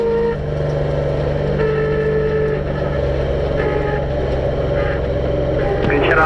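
Race car engine accelerating out of a corner on a track, a loud sustained roar with steady engine tones, close and continuous throughout.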